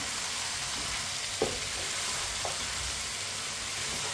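Cut potatoes for aloo gobhi stir through a frying pan, giving a steady, moderately loud sizzle with two brief scraping knocks of the spoon, and no speech.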